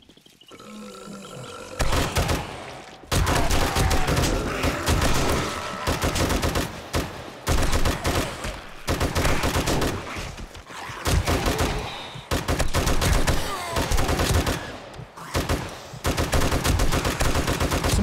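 Heavy automatic gunfire from a big gun during a horde night in 7 Days to Die: long, loud, sustained bursts of rapid shots with brief gaps between them, dominating throughout with growls mixed in.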